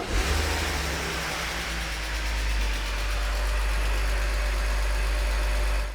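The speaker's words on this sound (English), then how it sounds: "We are starting off with a cold start." Cold start of a BMW E46 325i Touring straight-six engine that runs poorly and misfires, a steady loud close idle with a deep low rumble and broadband mechanical noise throughout.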